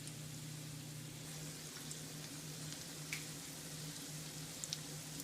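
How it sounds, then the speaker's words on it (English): Black bean burgers fry in a pan with a steady, soft sizzle and faint crackles, a low hum underneath and a couple of brief clicks near the end; no one speaks. "be sure to let your burgers cook 2 to 3 minutes on each side"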